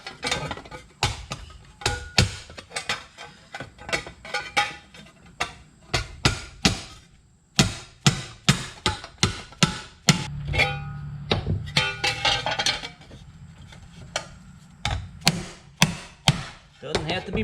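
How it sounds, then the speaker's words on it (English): Hammer tapping bent metal held in a vise in a garage, working on air-cooled VW engine compartment parts: a long run of sharp, close metallic knocks in irregular bursts of single and rapid repeated blows, with brief pauses between. "See if we can straighten her out with a couple of love taps over here on the vise."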